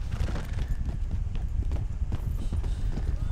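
Rapid, steady hoofbeats of a ridden horse in the video game Fallout 76, close and continuous low clops under a busy game soundscape with a little talk.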